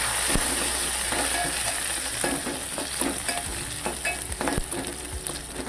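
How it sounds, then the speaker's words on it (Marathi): Chopped onion fries in hot oil with cumin seeds, giving a continuous close sizzle with irregular scrapes and taps of a spoon stirring the pan, and no one speaking. "कांदा जरा लालसर होईपर्यंत भाजून घेणार"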